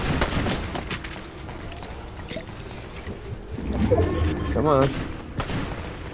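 Video game gunfire in a heist match, a dense rattle of distant shots and booms running throughout, with a voice talking over it.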